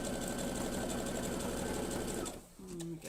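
A sewing machine runs steadily, stitching fabric with a fast continuous whir and mechanical pulse for over two seconds, then stops abruptly, leaving quieter room sound and a brief voice.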